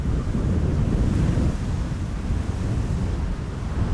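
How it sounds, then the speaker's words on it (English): Strong wind blows across an airport, a steady low rushing roar muffled by a microphone windshield, continuous and loud with no voices. "we are still getting a lot of wind here"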